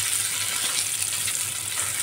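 Paneer pieces fry in a pan of hot oil, giving a soft, continuous sizzling hiss at close range with no talking.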